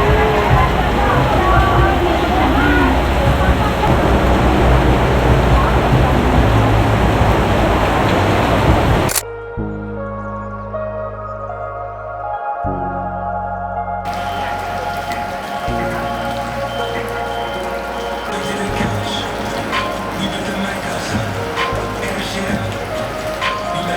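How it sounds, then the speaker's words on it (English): Heavy wet-season rain pours down in Bali, a dense loud hiss of drops drumming on surfaces for several seconds, then cutting sharply to a quieter stretch with fainter patter and scattered clicks before steady rain noise returns. "absolutely intense rain coming down now. This is Bali, wet season."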